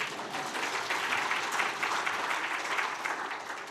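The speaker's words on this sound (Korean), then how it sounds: "박수 한번 쳐주세요" An audience at a church evangelistic meeting applauds, a sustained, even wash of many hands clapping that fades slightly at the end.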